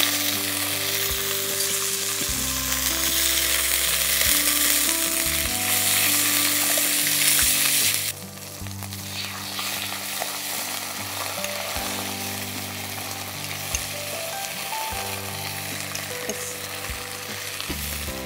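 Tomato puree sizzling and frying in a pan while red gravy is cooked, a steady loud hiss with stirring, which drops to a calmer, quieter sizzle about halfway through. No one speaks.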